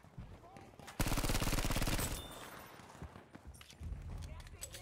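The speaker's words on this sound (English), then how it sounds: "I love spamming this gun on your face" Close, rapid automatic gunfire in Battlefield V rattles out in a dense burst of about a second, then sparser shots and game noise continue while a player talks over it.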